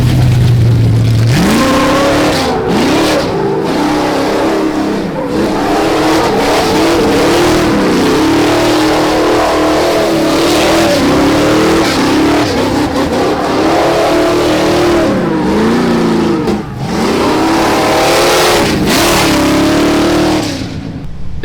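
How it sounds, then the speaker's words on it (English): A 700-horsepower truck doing donuts, its engine roaring loudly and continuously, the revs repeatedly rising and falling in sweeping surges with no talking over it. "Here's a bunch of donuts from our buddy Zach and his 700 horsepower truck."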